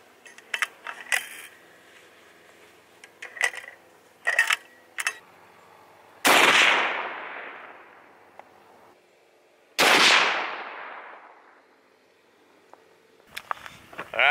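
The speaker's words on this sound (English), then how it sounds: "we're just gonna shoot a few rounds out to 100 yards and see where the point of impact is" Two loud .338 Lapua rifle shots fired at a 100-yard target from a rifle with a Vortex Diamondback Tactical scope, each a sharp crack with a long rolling echo, preceded by scattered clicks and handling noises.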